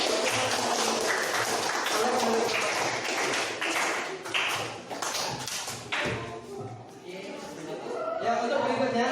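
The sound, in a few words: applause for a student group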